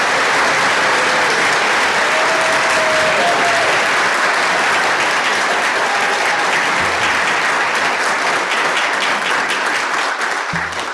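Sustained applause from a large audience honoring medal recipients at a Congressional Gold Medal ceremony for Chinese American WWII veterans, a steady loud wash of clapping lasting throughout with a few faint voices beneath.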